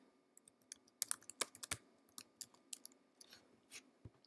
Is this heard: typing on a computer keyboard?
yes